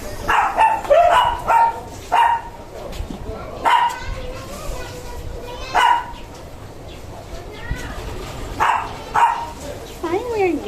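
Star, a pet dog, gives repeated short, high barks and yips while being dried with a towel, coming in uneven bursts close by, with people talking throughout.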